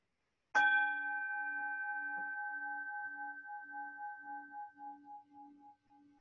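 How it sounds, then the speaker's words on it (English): A single bowl-like meditation bell struck once, ringing out clear and then fading slowly with a gentle pulsing shimmer over several seconds. "So I'm going to go ahead and ring the bell."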